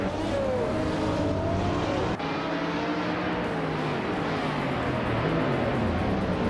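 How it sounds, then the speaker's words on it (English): A 2002 Audi R8 LMP 900 prototype race car in a racing video game at Tsukuba, its engine droning loud and steady throughout, with shifting pitch as it pulls away from the start. "Dale Earnhardt in the pole position, driving a classic 2002 Audi R8 in the LMP 900 class"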